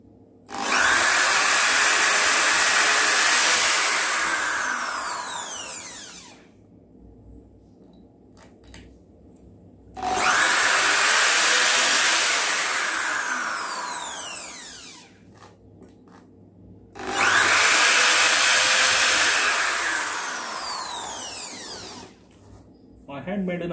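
A powerful DeWalt drill with an extra side handle bores small holes through PVC pipe laid over plywood, roaring loudly in three long bursts of about six seconds each, with quieter gaps between them.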